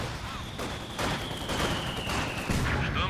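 Soviet mortar and mixed battlefield fire in Company of Heroes 2, with loud repeated bursts and booms over a continuous din and a thin high tone running through.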